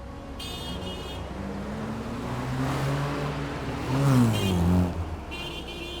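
A car engine roars as it accelerates hard, the pitch climbing in steps and peaking loudly before easing, heard up close over road noise.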